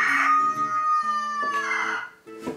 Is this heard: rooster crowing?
yes